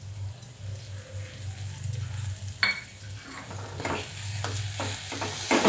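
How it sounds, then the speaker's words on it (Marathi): A potato and vegetable mixture with coriander being sautéed in a pan: a soft sizzle under repeated scraping and clinking stirring strokes, growing busier toward the end, with no voices. "परतून घेते."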